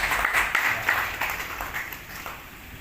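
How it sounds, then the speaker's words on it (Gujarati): A crowd at a Purushottam Puran katha gathering breaks into steady applause, dense overlapping clapping with a few louder claps near the start that gradually eases off. "તાળીઓના ગણગાટથી વધાવીએ"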